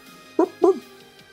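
A person's voice imitates a sleeping dog's little wimpy dream barks, two short soft yips close together followed by faint trailing breaths.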